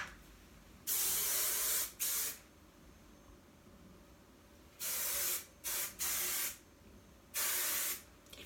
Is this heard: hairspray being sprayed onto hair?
yes